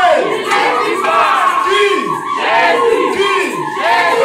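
A church congregation roars in acclamation of Jesus, a loud crowd of many voices whooping and shouting in surging waves that rise and fall over several seconds.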